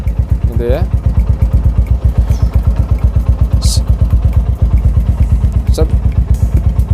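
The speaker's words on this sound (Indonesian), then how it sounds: "Biarkan dulu lah beberapa saat ini kondisi idle, kondisi langsam istilahnya gitu, mesin motornya menyala" An old motorcycle engine idles steadily up close, its low thumping pulse even and continuous, with a few brief clatters and small noises on top.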